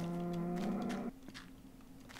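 A Minecraft cow moos once, a long, loud, low call lasting about a second, followed by quieter game ambience with no talking.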